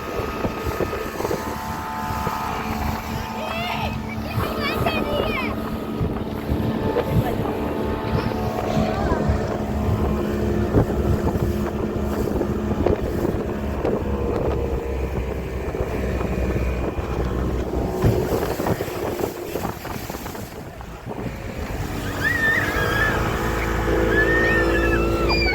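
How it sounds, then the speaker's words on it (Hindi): A motorboat speeds across a large lake in the Himalayan hills, its engine droning loudly and steadily under rushing wind, with voices talking over it. "बोट बहुत स्पीड में जा रही है।"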